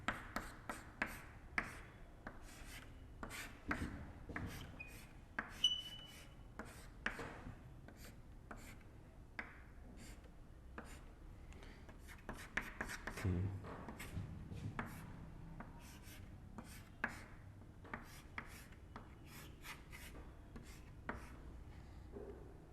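Marker or chalk writing on a classroom board during a chemistry lecture, with many short, quick strokes and taps in an irregular rhythm. The strokes sound fairly close and moderately loud against a quiet room, with no talking.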